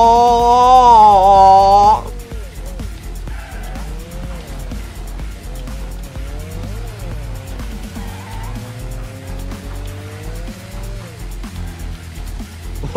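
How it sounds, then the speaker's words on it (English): Stock cars racing in the video game Wreckfest, with a loud revving engine at the start giving way to tire squeals, skids and engine hum that continue under a brief vocal reaction. "A car just sounds so goofy."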